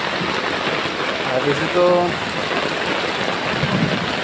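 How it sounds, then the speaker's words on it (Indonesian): Heavy rain pours steadily in a broad hiss around a residential neighborhood, with someone speaking briefly over the downpour midway. "Hujan deras ya ini ya"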